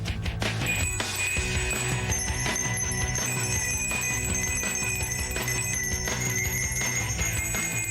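Hand bells ring in layered three-part harmony for a Salvation Army ad, bright overlapping chimes sounding continuously over a fuller, busy background mix.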